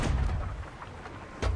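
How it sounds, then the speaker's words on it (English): Cannon shots boom in Sea of Thieves as enemies fire at the player's ship, two heavy low thuds, one at the start and another near the end, with quieter rumble between them. "I think they're trying to take shots at me as well"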